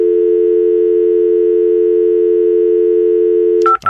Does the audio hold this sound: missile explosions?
no